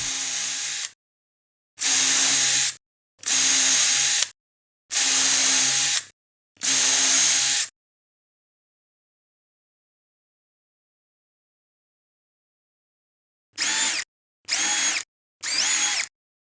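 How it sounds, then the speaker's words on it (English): A power drill whirs in eight short bursts drilling dowel holes in the ends of wooden slat boards with a jig: five steady runs, a long silent pause, then three quicker bursts, each starting and stopping abruptly. "I make the holes on both ends of the board"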